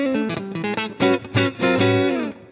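A Fender Telecaster fitted with 1955 Tele Blues pickups plays a quick run of bright, steely notes, then a few ringing chords with a slight overdriven edge, heard close and alone.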